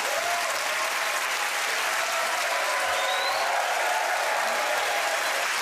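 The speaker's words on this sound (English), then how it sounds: "OK, get a round of applause to James," A studio audience at the comedy panel show Mock The Week breaks into sustained, dense applause, a loud, even wash of clapping that fills the room with no talk over it.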